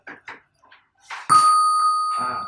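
A few soft taps, then a bright, clear coin-pickup ding in a Unity game that rings out and slowly fades, with faint noise returning at the end.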